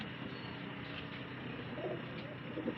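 A highflyer pigeon, a female bird, gives soft low coos a few times in the latter half, under a steady background hum.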